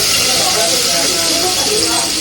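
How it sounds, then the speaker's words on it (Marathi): Tomatoes frying in hot, boiling oil make a loud, continuous hissing sizzle, with someone talking over it. "आता टोमॅटो भाजून घेऊ त्याच्यामध्ये"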